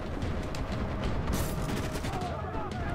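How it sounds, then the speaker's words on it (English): Continuous gunfire in the video game Max Payne 3, dense overlapping shots and booms that hammer away without pause across the whole stretch, loud and close. "Jeez, I'm still getting shot at."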